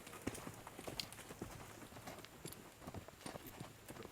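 A wild horse runs away across a corral, its hooves pounding in a quick, irregular stream of thuds and clops, moderately close and fairly quiet, with no talk.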